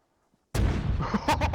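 Mortar fire in the Sicily campaign of the video game Call to Arms. After a moment of silence, a sudden loud boom gives way to a rumbling blast, followed by a couple of sharp secondary bursts.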